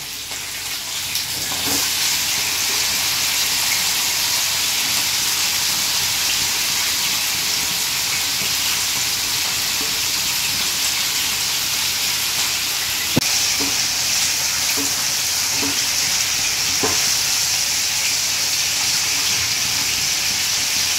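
Mutton pieces hitting hot oil with fried onions in a pan, a steady loud sizzle throughout with occasional stirring clatter from a spoon.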